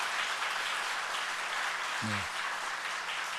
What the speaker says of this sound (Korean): 우리 장로님 선물 전달할 때에 여러분 큰 박수로 한번 환영해 주시기 바랍니다.